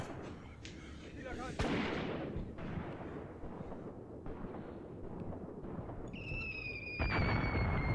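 Artillery and gunfire from the wargame Graviteam Tactics: Mius Front: a continuous rumbling barrage with repeated booms and cracks, dense and fairly loud throughout, with a sharp blast near the end.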